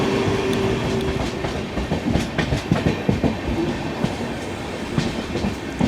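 A passing train hauled by a WAG-12B electric freight locomotive from Saharanpur shed, heard as a steady loud rumble with rhythmic clickety-clack of wheels over rail joints throughout.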